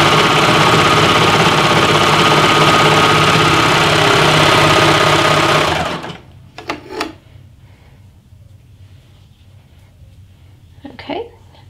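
A serger sews medium-weight knit fabric with a steady, loud, close mechanical whirr that runs for about six seconds and then stops, followed by quieter handling sounds and a voice speaking.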